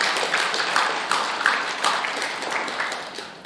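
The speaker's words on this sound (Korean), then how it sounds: "그분들 애쓰신다고 박수 한번 쳐드리세요." Audience at a Korean Buddhist dharma talk applauds in a steady, moderately loud patter of many hands that gradually thins toward the end, with no speech over it.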